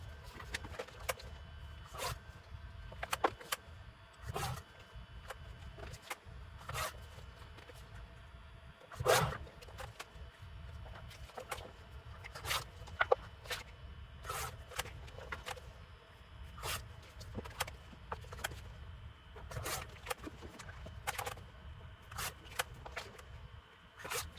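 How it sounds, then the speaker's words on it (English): A large paper trimmer cuts through cereal box cardboard, a series of quiet, irregular sharp slices and scrapes spread across about twenty-four seconds, with soft handling noises between cuts and no talk. "I got my big paper trimmer here, and I'll start cutting this."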